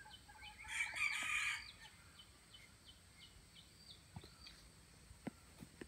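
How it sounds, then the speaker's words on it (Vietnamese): Jungle fowl on a farm giving a loud crowing call near the start, followed by quieter clucks and faint bird chirps against a low outdoor background. "Đây con gà rừng này."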